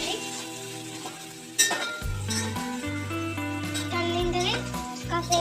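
Chana dal and spices fry in a pan for bagara rice with a soft sizzle and occasional stirring clinks, heard under louder background music.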